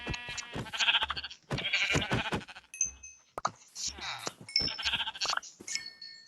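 Sheep bleating in the video game Minecraft, several loud, close bleats in quick succession with short gaps between them, no talking.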